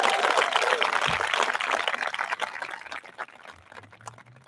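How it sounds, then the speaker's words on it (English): An audience at a high school graduation ceremony applauds in a dense wash of clapping that starts loud and gradually thins and fades out, with a faint voice emerging near the end. "we give you a large round of applause for everything you have done for us"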